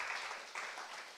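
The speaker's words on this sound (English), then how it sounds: "Another round of applause for Joseph." Audience applause at a toxicology risk-assessment training event in Uganda, a soft, even patter of clapping from a seated group, faint and distant, lasting a bare second with no talk over it.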